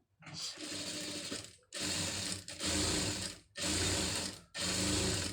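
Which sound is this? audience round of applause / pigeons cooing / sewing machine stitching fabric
sewing machine stitching fabric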